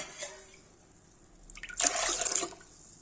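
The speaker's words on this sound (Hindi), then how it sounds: "गाइस देखिए इसे पानी डालेंगे," Water poured from a vessel onto arhar dal in a pot for washing, a brief splashing gush after a faint drip, close and fairly quiet.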